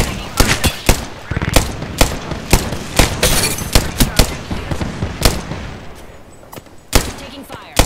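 Loud gunshots ring out in Apex Legends, a steady run of sharp single and double cracks at irregular intervals, with a few denser bursts in the middle.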